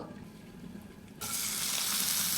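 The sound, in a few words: frying onion, garlic and green chilli in oil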